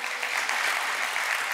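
A church congregation applauding, a dense, steady wash of clapping from many hands sustained for a moment without a break.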